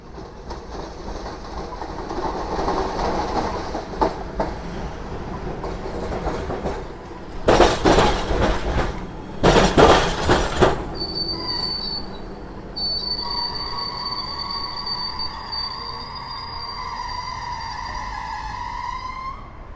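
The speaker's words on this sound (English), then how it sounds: "it's like I can see the W class tram. I'm gonna record it." A W class tram rumbles past at Flagstaff Station in Melbourne with rattling wheels and a loud clattering burst, then its wheels squeal in long, high, wavering tones as it rounds a curve.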